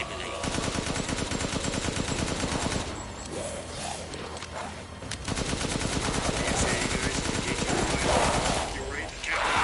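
Video game gunfire, long bursts of rapid automatic shots that pause briefly and resume, loud and dense, with some talk mixed in.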